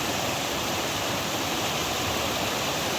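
Steady, loud rushing of a stream along the 100 Mile Wilderness trail in Maine, a full broadband wash of flowing water that holds constant and close with no voices.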